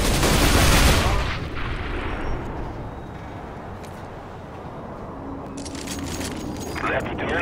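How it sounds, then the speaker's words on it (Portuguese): A flashbang in the Overwatch video game goes off as a loud burst, then fades into a hissing wash with a thin high ringing tone. Voices speak in the background. "Throwing a flashbang."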